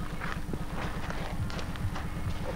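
Horse hooves clip-clop in a steady, quick rhythm during a riding lesson in an indoor arena at Vindás, continuous and fairly close.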